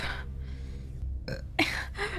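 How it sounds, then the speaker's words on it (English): A single burp from a person playing Poppy Playtime, short and close, heard alone over a quiet game background with a faint gasp-like breath nearby. "Oh, I need to burp."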